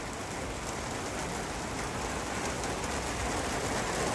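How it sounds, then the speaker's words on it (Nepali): Heavy rain pours down steadily on a road near Thankot during a Saturday ride toward Dhading in Nepal, a dense, close, unbroken hiss that stays evenly loud throughout with no talking. "यति ठुलो पानी पऱ्यो कि रेनकोट लाउँदा पनि तल सुजहरू सबै मस्तै भिजेको छ"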